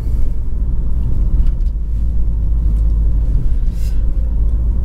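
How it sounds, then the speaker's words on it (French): A muffled, low engine rumble heard from inside a 2006 Renault Mégane II RS Turbo 225 three-door, steady and subdued with a soft road hum and no talking. "l'atmosphère sonore est très feutrée hein, dans cette voiture."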